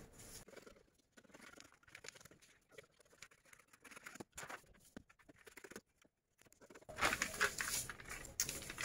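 Scissors snip through shirt fabric along a pattern in a series of quiet, irregular cuts, followed by a louder burst of rustling as the cloth is handled near the end.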